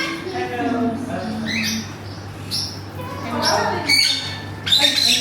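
Caged birds in an air-conditioned bird cafe in Thailand let out harsh squawks and shrill calls in scattered bursts, mixed with people talking nearby over a steady background hum.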